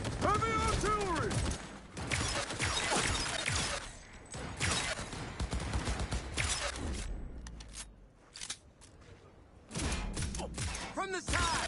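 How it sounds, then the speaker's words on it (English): Chaotic Cyberpunk 2077: Phantom Liberty firefight with bursts of gunfire, mechanical clatter and impacts, loud and close, with shouted voices breaking in between shots. "Opening fire!"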